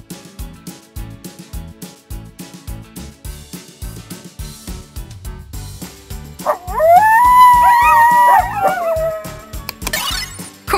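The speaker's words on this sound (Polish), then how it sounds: "Kojot." A coyote gives yips and short barks in a rapid, uneven series, then breaks into a rising, wavering howl with a loud peak before it trails off.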